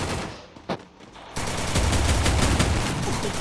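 Loud gunfire in a Counter-Strike ranked match: a lone sharp shot early on, then after a short lull a sustained, rapid automatic burst carries through to the end.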